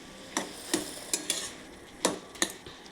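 Metal spatula scrapes and taps in a cast iron wok while stirring lau ghonto, a bottle gourd curry with prawns, in sharp irregular strokes over a soft background hiss.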